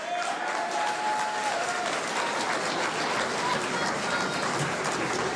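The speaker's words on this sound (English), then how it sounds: "Let's give a round of applause to the Prime Minister." Sustained applause from an audience for the Prime Minister at a formal appointment ceremony, a steady dense wash of clapping at moderate loudness that carries on evenly throughout.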